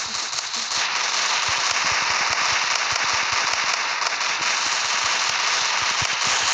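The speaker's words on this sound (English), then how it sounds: "I'm shooting him right now." Rapid gunfire hits a zombie in Roblox Zombie Rush, a loud, fast string of crackling shots repeating steadily over a constant game background.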